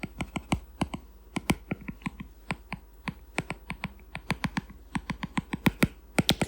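A paintbrush taps on canvas in short strokes, making rapid, irregular dry ticks in quick clusters, close and fairly quiet.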